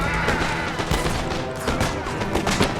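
A line of infantry fires a volley in the video game Napoleon Total War, a dense, crackling burst of overlapping musket shots with thuds, rolling on for a few seconds at moderate loudness.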